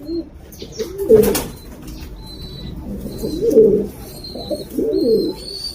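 Pigeons in a breeding loft give several soft, throaty coos in repeated bursts, close by, with faint chirps and a little wing movement between them.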